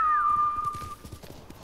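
Kage, a horse in the video game Ghost of Tsushima, clops along with steady, fairly close hoofbeats, while a thin whistling tone rings over the first second and fades out.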